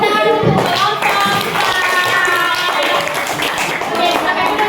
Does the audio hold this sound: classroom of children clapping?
yes